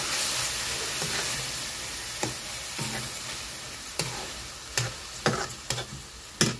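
Mashed dill and spinach greens sauté in a hot pan, a soft continuous sizzle broken by repeated sharp scraping and tapping of a spatula, growing busier toward the end.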